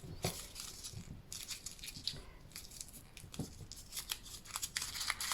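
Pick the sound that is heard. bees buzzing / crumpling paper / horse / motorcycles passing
crumpling paper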